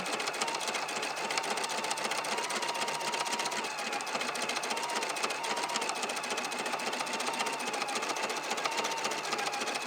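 Embroidery machine stitching an edge-to-edge quilting design at a slow, steady pace, a continuous rapid mechanical chatter of needle strokes running evenly throughout, close and moderately quiet with no talk.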